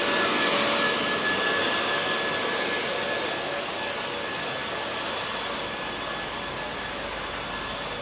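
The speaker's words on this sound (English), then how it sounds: "got the vacuum cleaner or the blower or something going. Whatever it is, it's very noisy." A loud, steady motor roar like a leaf blower or vacuum cleaner runs without pause on a street in Palmanova, Mallorca, with a faint whine on top.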